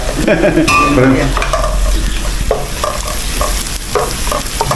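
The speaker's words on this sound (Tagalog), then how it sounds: "Gisa-gisa lang, no? Nauna yung siboya." Onions sautéing in a pan, loud close sizzling with vigorous stirring and scraping throughout.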